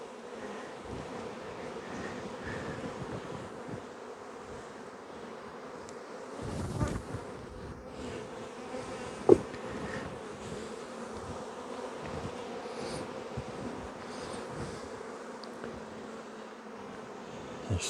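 An opened hive holds a honey bee colony, which fills the air with a steady, close, even drone of buzzing wings. A few soft knocks and one sharp click come through.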